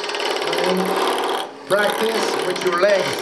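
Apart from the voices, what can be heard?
roughing gouge cutting wood on a lathe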